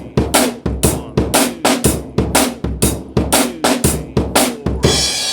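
Drum kit groove with a prominent snare, played at a faster tempo on a drum shop show: steady repeating hits with crisp cracks over a kick, loud and close, with no talk and a ringing cymbal wash at the end.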